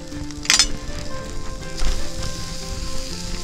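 Tomato slices sizzle and fry in a pan with turmeric for a Goan tender coconut chilli fry, a steady close hiss with a brief louder crackle burst near the start.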